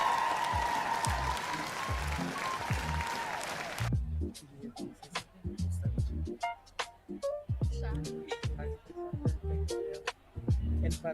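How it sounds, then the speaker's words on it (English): A crowd at a sports scholarship and awards ceremony applauds district winners, a dense burst of clapping for about four seconds that then drops away under a speaking voice. "can we get another round of applause for our Hesperia district winners?"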